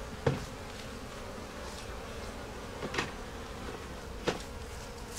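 Honey bees at a hive where a queen is about to hatch hum in a steady, faint drone, with a few louder buzzes passing close at intervals and no talking.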